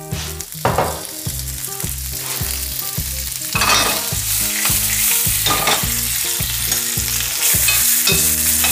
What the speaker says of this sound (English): We'll just tear some English spinach and we'll throw that in the pan.